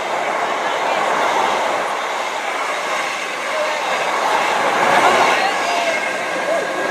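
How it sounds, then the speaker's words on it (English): A Class 332 Heathrow Express electric train passes non-stop through a station, a loud sustained rush of wheels and rail noise with a faint clatter, holding steady throughout. "non-stop through is a Heathrow Express train"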